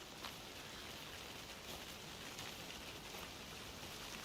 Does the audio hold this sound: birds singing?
no